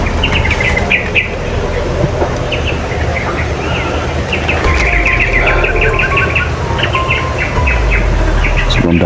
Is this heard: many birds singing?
yes